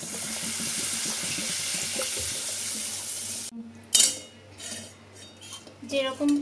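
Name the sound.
pouring water into pan for fish curry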